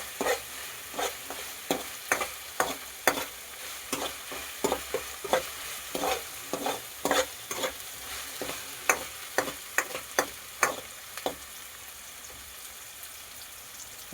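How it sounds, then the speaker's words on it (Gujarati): Masala macaroni pasta with onion and tomato is stirred and fried in a pan on full flame: a soft continuous sizzle broken by regular scraping spoon strokes, close and moderately quiet. "આપણે આ રીતનું બધું હલાવતું જવાનું, મિક્સ કરતું જવાનું, એટલે આપણે ચોંટે નહીં"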